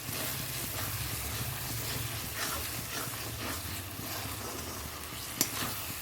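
Rohu fish masala sizzles steadily in oil while a spoon stirs through it, a continuous close frying hiss with soft scraping and one sharp clink near the end.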